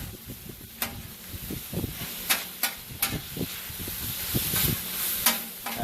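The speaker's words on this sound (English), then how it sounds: "we're going to take it and just mix it all up in there." Cheesesteak meat and onions sizzle on a flat griddle while being stirred and mixed, a steady hiss broken by repeated scraping clacks of a spatula against the metal surface.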